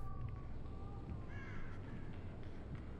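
Crows caw in the mobile horror game Dead by Daylight Mobile, several short harsh calls over a low rumbling game ambience, fairly faint and without speech.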